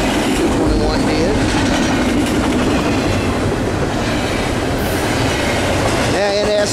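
A Norfolk Southern intermodal freight train led by SD70ACe and AC44C6M locomotives rolls past near Gastonia, a loud continuous rumble with wheel clatter, ending in a brief horn-like tone.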